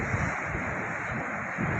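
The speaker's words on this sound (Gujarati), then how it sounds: "આ દરિયાના મોજા જોઈ શકો છો." Sea waves crash and surge on the shore at Somnath in dark rainy weather, a continuous broad roar mixed with wind buffeting the microphone.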